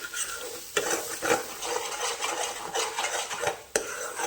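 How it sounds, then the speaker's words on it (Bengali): Two eggs are frying in hot oil in a pan while being stirred, and a utensil scrapes and clinks against the pan over a soft background sizzle, with a couple of sharper knocks. "তেলটা গরম হয়ে গেছে, এখানে যে 2টো ডিম আমি দিয়ে দিচ্ছি।"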